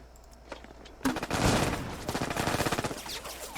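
Sustained loud burst of rapid gunfire from the tactical wargame Lock 'n Load Tactical Digital, a fusillade of dense overlapping shots that erupts suddenly after a quiet moment and rattles on steadily to the end.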